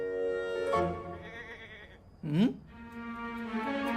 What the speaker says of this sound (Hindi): बकरा तो बकरी की ही आवाज पे आएगा ना